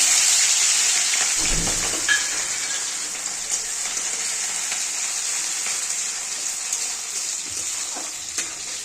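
Oil sizzling in a pan while ingredients fry for homemade chow mein, a steady close hiss with occasional stirring scrapes, continuous throughout, with no voices.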